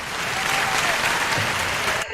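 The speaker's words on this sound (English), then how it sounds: "can we hit an applause button for Camo Steve one time, Mike?" Applause sound effect: a loud, steady burst of crowd clapping and cheering that runs continuously, then cuts off abruptly at the end.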